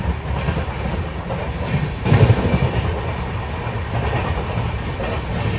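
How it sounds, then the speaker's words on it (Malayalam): Steady clickety-clack and low rumble from inside a Kanniyakumari superfast express sleeper coach running above 100 km/h, with a brief louder burst of rail joints partway through. "ട്രെയിൻ പോകുന്ന സ്പീഡ് കണ്ടാ 100 km/h മുകളിൽ തന്നെയാണ്"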